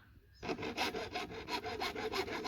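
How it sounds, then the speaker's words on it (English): A hacksaw cuts PVC pipe to shape a point, with steady rhythmic back-and-forth rasping strokes about five per second, close and clear with no talking. "take your hacksaw and make a point on it"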